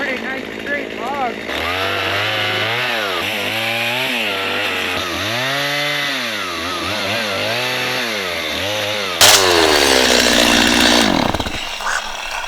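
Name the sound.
chainsaw cutting a log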